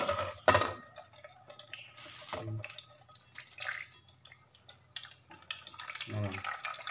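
Water trickles and drips steadily as it is drained from homemade virgin coconut oil, with occasional louder splashes and handling clatter around it.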